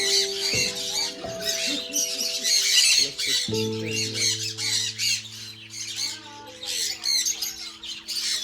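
Loud, harsh squawks from many birds in an aviary repeat rapidly and close by, mixed with sustained whistling tones.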